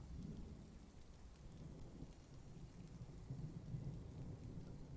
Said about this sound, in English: I can hear the storm outside, which is in the game